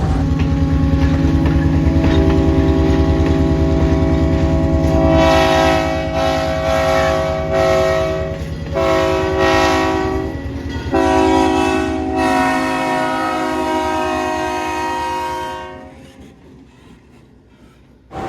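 A loud locomotive horn blasts a rhythmic "shave and a haircut, two bits" sequence of chord honks over rumbling train noise, the pattern of short and long blasts ending as the train fades.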